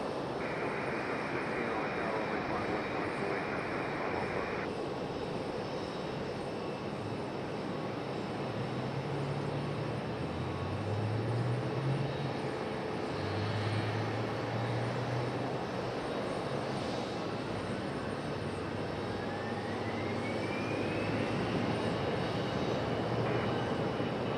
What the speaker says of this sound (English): There's our A319 from Delta on the move.